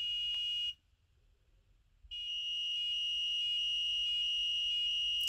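An Arduino active buzzer on an Elegoo Uno R3 board sounds a steady high-pitched tone, stops for over a second, then resumes in a continuous pulsing beep pattern, fairly faint and alone.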